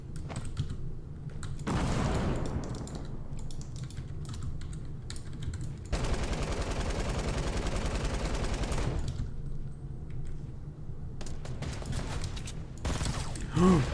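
Gunfire in Fortnite, rapid rattling bursts of shots and sharp reports, with one long sustained volley in the middle, played over soft keyboard clicking and game sounds.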